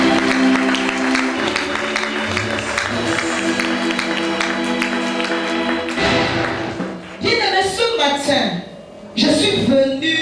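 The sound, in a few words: congregation applauding for the pastor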